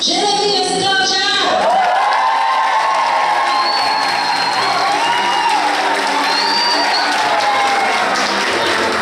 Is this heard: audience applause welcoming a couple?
yes